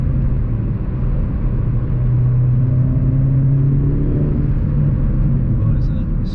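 A Vauxhall Corsa VXR driving briskly on a country B road, its engine and exhaust giving a steady loud droning rumble with a slight rise in pitch, heard from inside the cabin.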